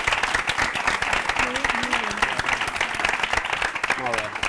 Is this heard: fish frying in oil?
no